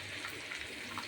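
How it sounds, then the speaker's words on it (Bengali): Chicken popcorn pieces deep-fry in oil over a medium flame, giving a brief, steady, bubbling hiss that is close and even, with no voices. "এবার এক এক করে চিকেনের পিসগুলো দিয়ে দেব। মিডিয়াম ফ্লেম করে ভেজে নিতে হবে গোল্ডেন ব্রাউন করে।"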